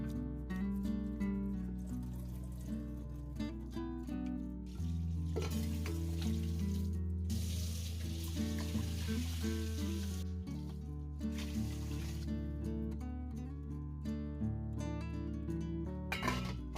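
Carrot fries in a pan for a Sri Lankan carrot poriyal. A continuous sizzle runs under prominent background music for the whole stretch.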